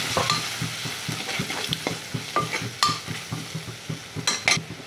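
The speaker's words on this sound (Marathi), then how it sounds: "थोडी हळद टाकूया आपण, मिक्स करूया।" Spices such as chili powder and turmeric being stirred into khichdi in a hot frying pan, with a steady sizzle under repeated scraping strokes of a spoon against the pan, close and clear.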